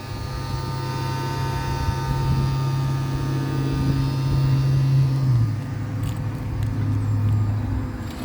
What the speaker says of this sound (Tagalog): That's the AC.